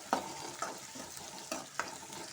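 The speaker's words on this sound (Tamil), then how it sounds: "இது நல்லா வதக்கிக்கலாம்." Pulicha keerai (gongura leaves) sautéing in a pan give a soft sizzle, broken by a few quick scrapes of the spatula as they are stirred.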